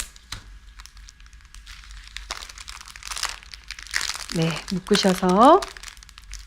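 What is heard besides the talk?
plastic wrapping crinkling while wrapping flower arrangement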